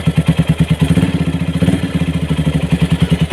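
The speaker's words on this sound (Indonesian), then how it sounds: "karena sedikit saya gas, sedikit bunyi pada klepnya atau katupnya bosku." A repaired Minerva motorcycle engine idles close by with a steady, loud pulsing beat and a light valve clatter, briefly rising with a small blip of throttle before settling back.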